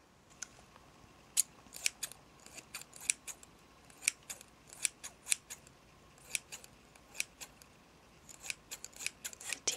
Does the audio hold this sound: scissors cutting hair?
yes